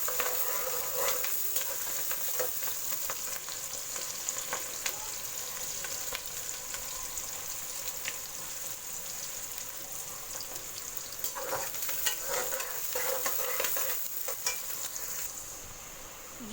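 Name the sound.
chopped onions sautéing in a pan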